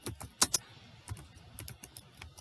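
Typing on a computer keyboard while entering a spreadsheet column name, a quiet close run of irregular key clicks with a couple of sharper taps.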